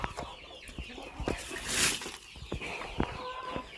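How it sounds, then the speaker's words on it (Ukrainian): Hens clucking nearby in short, irregular bursts, with a brief louder squawk partway through and faint farmyard background. "Там кури кричать сусідки"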